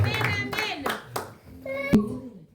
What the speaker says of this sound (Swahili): Can you clap your hands for Jesus?